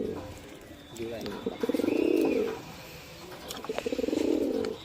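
Pet pigeons kept at a home coo. Two drawn-out, throaty coos sound close by with a voice in the background.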